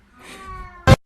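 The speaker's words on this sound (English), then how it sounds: "Let me show you guys how weird my cat is." A pet cat gives a single short, loud meow close to the microphone, following a quiet stretch of low room noise.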